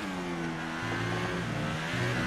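A McLaren Formula 1 car engine in the F1 2018 racing game at the Austrian Grand Prix, giving a fairly quiet, steady buzzing whine that steps up and down in pitch as the car drives on.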